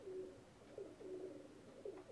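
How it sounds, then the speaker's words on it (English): Pigeon cooing just outside a window, a soft low repeated coo in rhythmic phrases, fairly quiet and heard alone with no talk. "There's a pigeon outside my window."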